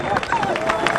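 Applause and cheering from a crowd at an outdoor anti-war rally in Los Angeles, a dense continuous wash of clapping with scattered voices, steady and fairly loud throughout.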